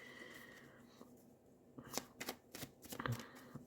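Tarot cards being shuffled by hand, a quiet room tone followed by a run of close, crisp riffling and flicking bursts toward the end.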